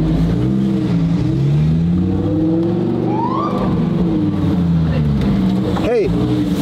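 Loud Lamborghini engine droning and rumbling steadily at close range on a street, its pitch rising and falling, with a brief sharp rev near the end and people talking over it.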